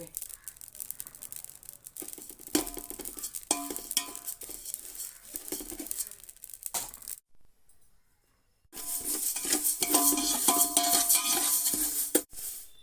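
Dry, fizzy crackling and popping of cumin seeds roasting in a hot pan for sambar powder, steady and close, with a brief quiet pause before the crackle resumes.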